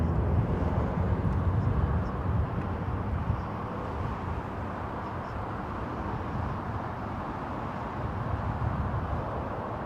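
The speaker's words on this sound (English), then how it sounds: "It's toga power on the Boeing, isn't it?" A Boeing airliner takes off at TOGA power from London Heathrow at sunset, a steady broad engine roar heard from a distance that holds without a break and fades very slightly toward the end.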